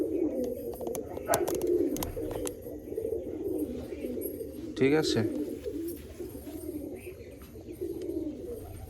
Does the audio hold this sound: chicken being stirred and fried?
no